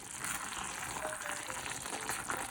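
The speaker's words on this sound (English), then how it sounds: "That is the sound that you want your sauce to make." Keto pasta sauce simmering and reducing in a pot after about twenty minutes, a constant close bubbling and spitting hiss like gentle frying, steady and unbroken with no voices.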